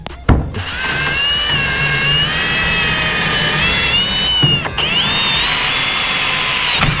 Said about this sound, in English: I'm gonna get to drilling these right here